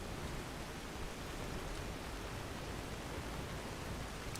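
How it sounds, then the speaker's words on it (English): Steady rain falling in Skyrim, a dense, even hiss with a low rumbling undertone that holds at the same level throughout, with no talking. "It's raining."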